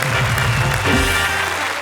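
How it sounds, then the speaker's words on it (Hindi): Audience at a Hindi poetry gathering applauds to welcome a poet, a brief burst of enthusiastic group clapping over a low room hum, moderately loud and continuous for a couple of seconds. "हम जोरदार तालियों से स्वागत करते हैं।"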